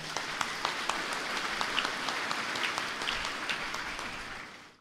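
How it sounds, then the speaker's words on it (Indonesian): Sustained applause from a large crowd at a university graduation ceremony in Indonesia, a dense, even wash of clapping with individual claps standing out now and then before it fades at the end. "mari kita beri apresiasi dan aplaus untuk"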